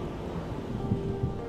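A thunderstorm brings a steady wash of rain with low, muffled rumbles of thunder rolling underneath, dense and continuous without any voices.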